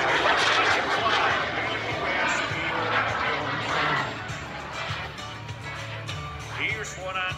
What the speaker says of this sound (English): of those early single-seat jets, the BD-5J, like the one that flew through the barn in that James Bond movie